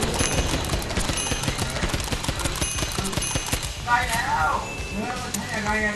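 Rapid bursts of gunfire crackle continuously over dense game audio in an Attack on Titan-style game, with a brief chime-like tone partway through.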